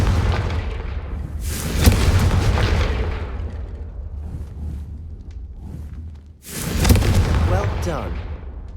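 Confringo spell blasts in the Hogwarts Legacy video game, two loud booming explosions several seconds apart, each with a sharp burst and rumbling decay.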